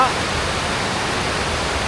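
River stream rushing near a waterfall in the Sahyadri hills, a loud steady broadband wash of flowing water, with a voice speaking faintly over it.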